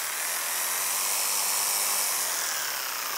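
A Makita jigsaw cuts at steady full power, giving a continuous high, close buzzing whine that holds level throughout with no pauses and no voices.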